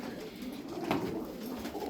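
Fancy pigeons, Turkish play birds kept in a flock of about twelve, giving a soft low cooing close by, a steady murmur with one slightly stronger coo midway and no voices.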